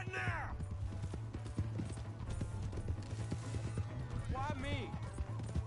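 Hoofbeats of a horse in a video game clatter in a steady clip-clop rhythm under a constant low hum, with a brief whinny near the start and synthetic game voices calling out toward the end.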